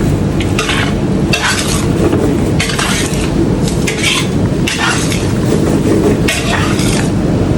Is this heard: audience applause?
no